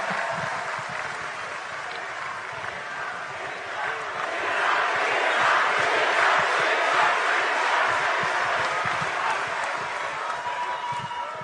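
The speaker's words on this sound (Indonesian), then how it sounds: "Boleh tepuk tangan lagi yang meriah buat Mas Gibran." A crowd claps and cheers for Gibran at an Indonesian presidential campaign event, the sustained applause swelling louder partway through.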